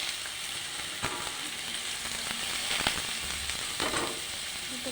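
Pointed gourd hitting hot oil with whole cumin, dried chilli and bay leaf, giving a steady, close sizzle and frying hiss throughout, with a few soft clinks of a utensil stirring the pan.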